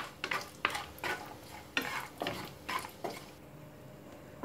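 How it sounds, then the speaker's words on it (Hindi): Cashews roasting in hot oil over a medium flame, stirred steadily with a spoon against the pan: soft sizzle under repeated scraping strokes, close up, with no voices. "10 से 15 काजू को रोस्ट करेंगे मीडियम फ्लेम पर। अब इसको लगातार चलाते रहेंगे।"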